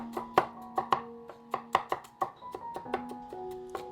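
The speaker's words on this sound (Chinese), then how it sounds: "稍微多切一点蒜末，炖豆腐的时候蒜末多一点，更香更好吃。" A knife mincing purple-skinned new Yunnan garlic on a cutting board, with a steady run of crisp, close chopping thuds, about four per second and somewhat uneven in rhythm, heard on their own with no voices.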